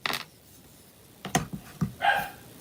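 An indoor dog gives a short series of sharp barks and yips, one at the start and several clustered near the end, close and fairly loud with no talk.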